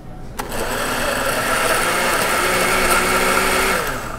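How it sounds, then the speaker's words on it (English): A mixer blends a mint shake made with milk, whirring up abruptly and then running as a loud, continuous, steady motor whine until the end. "Put a lid on it and give it a whirl in your mixer."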